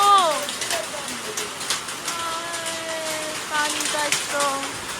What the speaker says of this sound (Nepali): पानी यस्तो परिरहेको छ